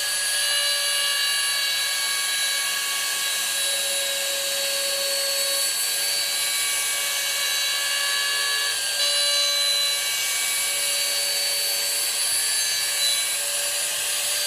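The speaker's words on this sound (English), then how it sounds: "take the Dremel and go right along that edge" A Dremel rotary tool grinds along a sharp edge at a 45-degree angle, giving a steady, loud, high-pitched whine with stable tonal layers held for the whole stretch, close up and without speech.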